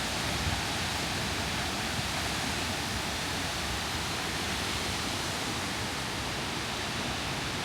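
A waterfall's steady, loud roar of falling water, heard up close with no talking.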